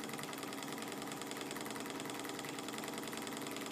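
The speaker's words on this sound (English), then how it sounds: "This one's running quite smooth," A small Manfred Stirling engine, built mostly of aluminum with a flywheel, runs smoothly indoors, giving a soft, steady, even mechanical whir with a fast fine rhythm and no other sounds over it.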